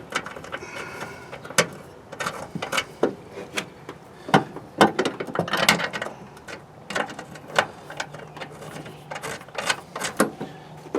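A driver tightens aftermarket T30 Torx screws during a Ford BoxLink knock-off install, giving irregular close ratcheting clicks and sharp metallic ticks over faint background noise, with no talking.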